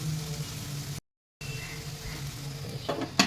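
Stuffed okra (bhindi) packed with masala and roasted besan cooks on a slow flame, giving a soft, steady sizzle broken by a brief silence and a faint clatter near the end.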